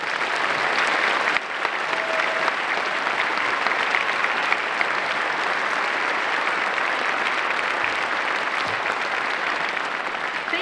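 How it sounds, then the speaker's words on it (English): A concert audience applauds after an honor band performance, steady dense clapping that fills the whole stretch, loud and even throughout, with no talking. "One more round of applause, please."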